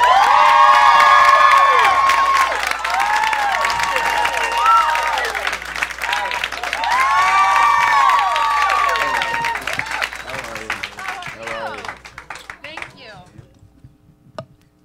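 A studio crowd in a radio station's VIP lounge cheers and whoops loudly for John Legend's entrance, with high excited shouts layered over clapping that fades toward the end.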